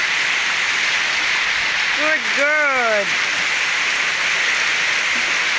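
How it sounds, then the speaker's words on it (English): Heavy rain pours down in Zamora near a mountain lake, a dense, steady hiss filling the whole stretch, with a short spoken word breaking in near the middle. "hope you enjoyed the heavy rain here in Zamora"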